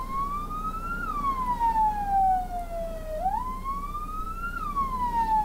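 An ambulance siren wails, sweeping slowly up and down in pitch, loud and steady, with a low road rumble underneath and no voices, on a road in Malaysia.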